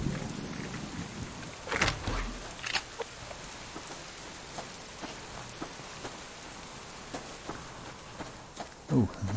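Outdoor thunderstorm with steady rain pattering on surfaces, punctuated by several sharp thunder cracks and rumbles, loud and near, with a brief louder burst near the end.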